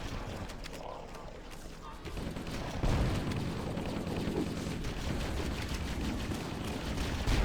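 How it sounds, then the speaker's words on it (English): Rapid gunfire and a grenade blast in the video game Halo: Combat Evolved, fought against a leaping Flood combat form in the Library mission, with dense, continuous shooting that swells louder after a heavy thump partway through. "So here I just shoot the combat form that's jumping down, and I throw a grenade"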